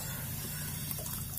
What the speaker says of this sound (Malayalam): നമുക്ക് ഇതിന് കുറച്ച് വെള്ളം കൂടെ ഒഴിച്ചിട്ട് ഗ്രേവിക്ക് വേണ്ടി